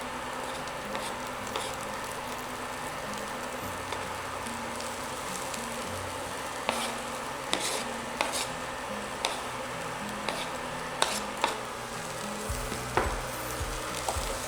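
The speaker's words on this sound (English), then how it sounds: "Let's now add our sliced mushrooms to it." Sliced mushrooms sauté in a pan, a steady crackling sizzle with scattered stirring clinks and scrapes throughout; a low hum runs underneath, and there is no talking.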